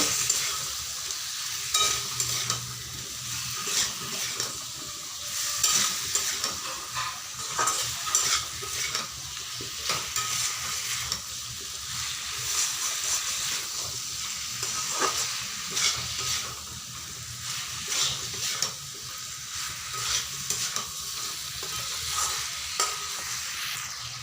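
Jackfruit curry with a little added water is stirred and mixed in a pan, giving a long, steady sizzle with repeated soft scraping strokes of a spatula, close by and without speech.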